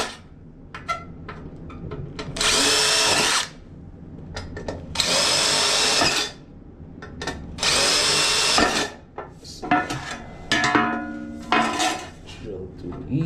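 Three long bursts of a power drill with a 9/16 bit grinding through material during a bathroom project, each a few seconds, separated by short pauses and lighter clatter, close and loud.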